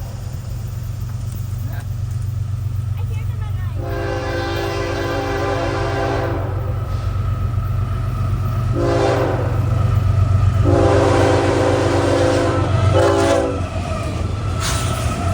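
A Florida East Coast Railway train rumbles steadily close by while its horn blasts in several long harmonic bursts, with voices faintly underneath.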